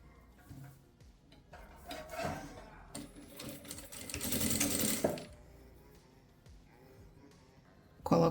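A domestic sewing machine joins a fabric seam with a 1 cm allowance on a loose dress with a gathered hem, running in short stop-start bursts of quick, rattling stitching at close range.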